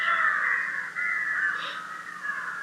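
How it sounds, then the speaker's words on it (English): Crows cawing outdoors, a steady, drawn-out harsh calling that stays fairly loud and close with a brief dip midway, no voices. "complete attention to those crows"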